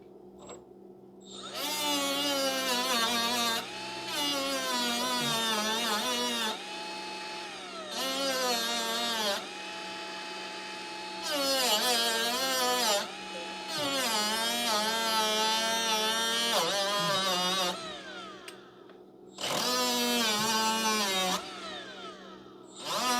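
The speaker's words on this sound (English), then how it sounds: "I may just grind down the sleeve to the bare metal." An angle grinder grinds a metal lower control arm sleeve down to bare metal on the driver's side of a 2009 Pontiac. It comes in repeated loud, close bursts of high, whining grinding, with the motor pitch rising and falling between runs.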